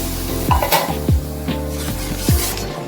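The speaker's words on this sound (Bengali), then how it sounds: "এই যে এখন তেল ছাড়ছে, এখনও কষাতে হবে" A thick spice masala sautés in oil in a pan, sizzling under repeated scraping strokes of a spatula, about four distinct swipes in a few seconds.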